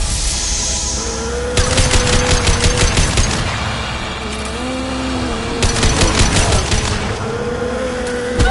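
Two long bursts of rapid automatic gunfire in Mass Effect 2, loud and close, each lasting a couple of seconds over a humming background tone with scattered blasts between.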